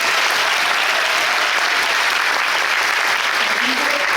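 Theater audience at a musical's final curtain call applauding the costume team, a dense steady wash of clapping from a large crowd, loud and continuous throughout.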